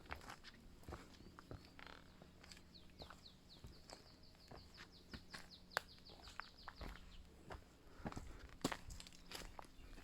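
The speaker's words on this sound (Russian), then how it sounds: "Слушаем пение птичек, которые по-весеннему сейчас заливаются." Spring birdsong in a shady wooded park at Prainha on Pico Island in the Azores: several bright chirping trills and a repeated descending whistle phrase, fairly close, over footsteps on a root-covered path.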